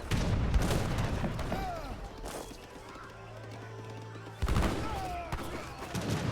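Gunfire and cannon blasts from an Age of Empires 3 battle with heavy cannons, culverins and musket units, scattered booms and crackling volleys under a commentator's voice.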